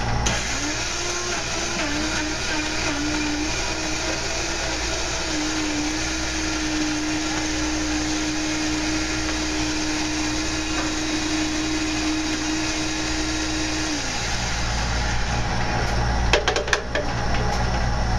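A blender purees tomato for salsa, a loud steady motor whine with a sustained pitch that drops and rises briefly as it catches, running close for about fourteen seconds before stopping, followed by a few clinks.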